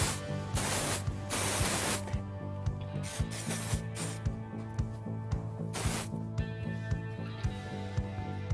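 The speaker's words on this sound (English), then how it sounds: "just going to use a little bit of this texture wave" Texture wave hair product sprayed from a can during a blow dry, several short close hissing bursts, two long ones early and another later, over a steady background hum.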